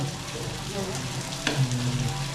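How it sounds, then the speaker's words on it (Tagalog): Hotdogs fry in hot cooking oil, a steady dense sizzle and crackle with a brief louder pop midway, close and continuous. "Nilagay na ng nanay ko ang hotdog. Okay na yung mantika nilagay ko."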